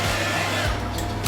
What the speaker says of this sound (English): if you're doing from home, use the hair dryer